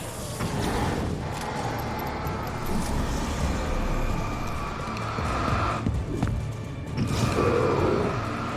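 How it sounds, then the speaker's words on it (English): A tractor engine in the video game Alan Wake drones in a loud, steady rumble that holds for the whole stretch, with slight surges near the start and end and no voices over it. "Who isn't scared of loud farm equipment?"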